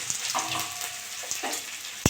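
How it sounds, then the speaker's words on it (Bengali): Onion sizzles while frying in mustard oil in a wok, a continuous crackling hiss with faint stirring scrapes and a sharp knock right at the end; no one speaks. "পেঁয়াজ দিয়ে দেবো"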